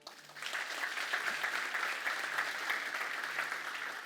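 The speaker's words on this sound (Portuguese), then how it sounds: "Salve de palmas a Deus pelo Lipão." A church congregation breaks into steady applause during a Portuguese-language sermon, many hands clapping together in a continuous, fairly faint wash heard from a distance in the room.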